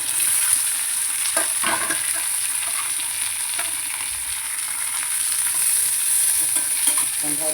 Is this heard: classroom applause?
no